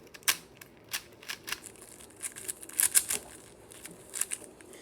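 A 4x4 puzzle cube is twisted rapidly to scramble it, giving a run of sharp plastic clicks and clacks in an uneven rhythm, close and fairly clear.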